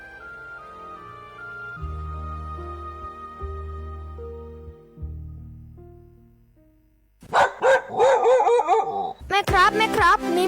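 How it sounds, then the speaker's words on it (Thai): A dog barks in front of a house: several sharp, loud barks in quick bursts arrive after a stretch of soft tonal music. "แม่ครับมีหมาที่ไหนก็ไม่รู้เห่าอยู่หน้าบ้านเรา"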